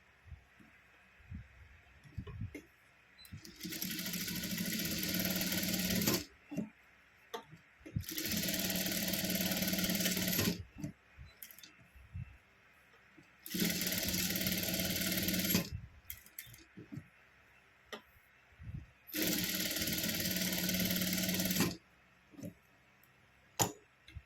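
Sewing machine slip-stitching around the edges of a blouse latkan, running in four steady bursts of a few seconds each with quiet pauses and small handling clicks between them, close by and fairly loud.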